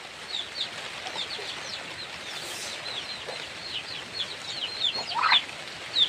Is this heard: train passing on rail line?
no